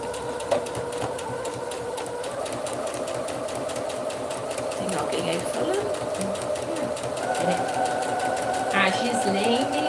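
A sewing machine stitching tricoline fabric with a half presser foot, running in a rapid steady mechanical rattle with a brief pause, while someone talks over it.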